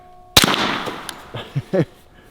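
A Ruger carbine fires a single sharp, loud shot into a red 2-liter bottle, followed by a brief decaying crack and a few short murmured voices.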